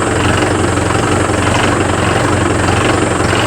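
A Mahindra Yuvo Tech+ 585 DI tractor, a 50 hp model, runs steadily while turning in a tight radius in a field, its engine giving a continuous, loud low drone with no breaks.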